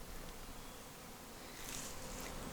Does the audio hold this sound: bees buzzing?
yes